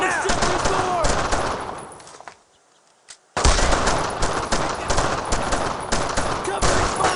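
Rapid rifle and machine-gun fire rattles in dense bursts during a World War II squad battle in Brothers in Arms: Road to Hill 30, broken by a brief lull before the loud close volleys resume, with shouted voices mixed in.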